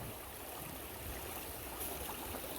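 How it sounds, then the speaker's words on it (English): Rain falling on a river during a hurricane, a dense steady hiss of water, close and even with no talk. "It's still raining pretty good"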